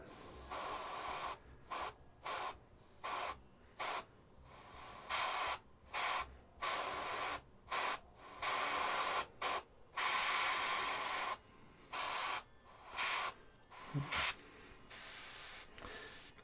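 Airbrush or spray can laying green paint on a painted miniature, a long run of repeated hissing bursts with short gaps between them, close and steady, with no voices.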